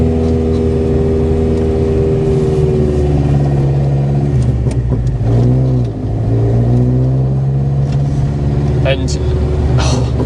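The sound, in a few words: modified mk2 Golf GTI pulling away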